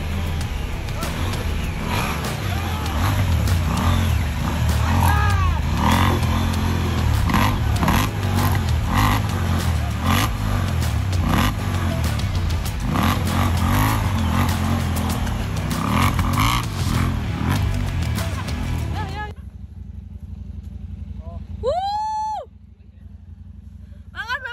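Adventure touring motorcycles ride a rough trail at Hambalang, Bogor, with loud engine drone, revving and rumbling under a constant crowd of voices for most of the stretch, then cutting off to near silence with a few faint chirps.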